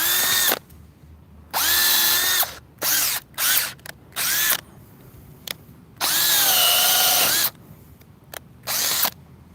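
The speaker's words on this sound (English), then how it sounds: "I'm going to break this with a spade bit," A Teccpo 20V cordless drill with a spade bit bores into a tree stump in loud, close whining bursts of varying length, the motor winding up and dropping in pitch under load, separated by short pauses.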